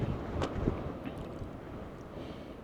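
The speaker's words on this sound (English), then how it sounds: "It is really windy outside" Steady low wind rumbles and buffets against the microphone outdoors beside a VW T5 campervan, with a few gusty flutters early on and no voices.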